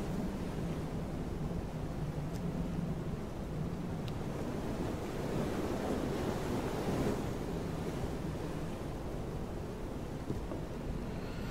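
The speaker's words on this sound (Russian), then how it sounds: "вода волнуется сильно" Rough, stormy ocean waves in the survival game FAR: Changing Tides roar continuously with wind noise, a dense, loud wash of surf with no pauses or voices.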